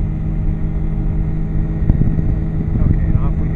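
Small airplane engine run up to full throttle at about 6000 RPM, a steady loud droning hum with a low rumble, heard under a man's speech.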